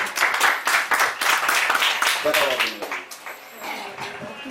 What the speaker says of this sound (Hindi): ताली हो जाओ इनके लिए